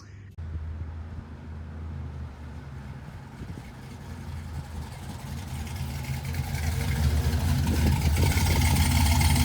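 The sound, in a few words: LS swapped 1971 C10 truck engine running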